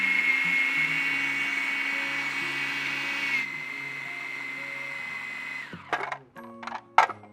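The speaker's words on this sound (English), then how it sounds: "You want to grind these at full speed until it begins to turn into almond butter." A food processor grinds almonds toward almond butter at full speed with a loud steady whirring drone that drops in pitch partway through, then stops, followed by a few clattering knocks.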